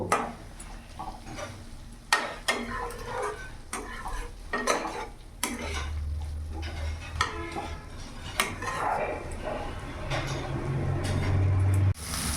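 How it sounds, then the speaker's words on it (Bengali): Rui fish curry with potatoes and eggplant is stirred and fried in a pan: repeated sharp spatula scrapes and knocks over a steady sizzle, close and fairly loud, with a low hum building near the end. "এবার কিছুক্ষণ এর সাথে মিশিয়ে নেব আর কিছুক্ষণ কষিয়েও নেব"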